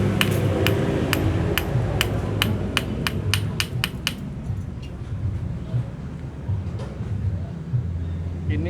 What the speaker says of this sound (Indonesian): pakai palu ini atau besi atau batu lainnya nih